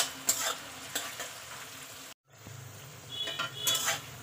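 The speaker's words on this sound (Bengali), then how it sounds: "পেঁয়াজটা আমি একটু লাল করে ভেজে নেব" Two large onions frying in oil in a kadai over a gas flame, a soft sizzle punctuated by spoon clinks and stirring knocks, briefly interrupted midway, no talk.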